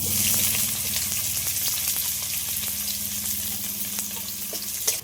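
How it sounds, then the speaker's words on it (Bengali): Chopped onion hits hot oil in a wok, giving a loud, dense, steady sizzle that continues evenly with faint crackles and no talking. "কড়ার মধ্যে কিছুটা তেল দিয়েছি তেলটা গরম হয়ে গেছে এবার এর মধ্যে দিয়ে দিচ্ছি পেঁয়াজ কুচি"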